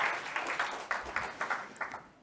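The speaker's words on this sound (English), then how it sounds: "A round of applause to EcoWorth." A small audience gives a brief burst of applause, distinct individual claps at a quick uneven rhythm that fade out after about two seconds.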